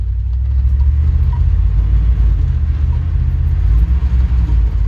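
A 1980s Dodge show truck idles steadily, giving a loud, continuous low rumble close by that stays even throughout, with no voices.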